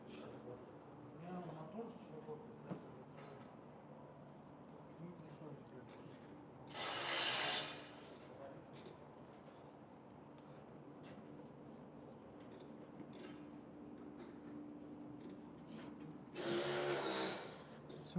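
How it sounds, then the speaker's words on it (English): Spot buffing of paint on a tractor, a soft steady rubbing with two short, louder bursts of buffing friction, heard close with faint background sound and no clear talk over it. "So we're only spot buffing."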